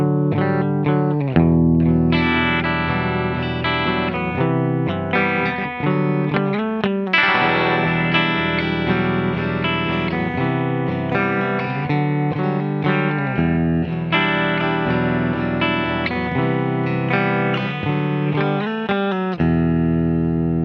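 Electric guitar played through its bridge pickup with freshly changed strings, a bright, effects-laden tone with distortion, sustained chords and riffs ringing loud and continuous for about twenty seconds with no talking.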